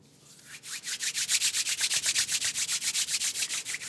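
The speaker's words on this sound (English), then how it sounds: "Just rub these shoulders out for you" Steady rhythmic rubbing of hands over fabric on the shoulders during a close-up massage, about twenty even back-and-forth strokes that start softly, build and stay close and clear, with no talking.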